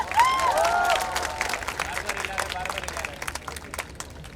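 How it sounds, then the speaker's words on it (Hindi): Audience at the Kala Ghoda Art Festival 2017 in Mumbai applauds and cheers for the guests, a dense wash of clapping and crowd noise that fades gradually over a few seconds, with speech babble mixed in. "तालियां दे दीजिए उनके लिए।"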